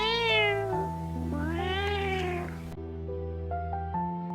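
A cat meows twice in a Catalan children's tale, La Rateta Presumida: two drawn-out, rising-and-falling meows, close and clear, over a soft, steady musical backdrop, with no speech.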